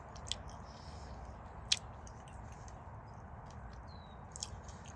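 Gray Panama dragon fruit is chewed close up, with quiet, soft wet squishing and a few sharp little crunches from its seeds. No one speaks.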